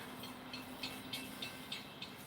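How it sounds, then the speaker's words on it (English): Freight train passing at a distance, a faint steady rumble with a soft rhythmic clickety-clack of wheels and a thin sustained tone over it. "Freight train's down there."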